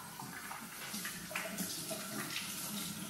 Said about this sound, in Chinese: 拿水冲一下，冲冲水就很干净了。